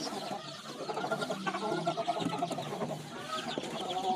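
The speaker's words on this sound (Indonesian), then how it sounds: "Ini adalah anak ayam yang usia 2 minggu." Two-week-old kampung chicken chicks cheep and peep continuously in a busy, close chorus of small high calls, with no voices.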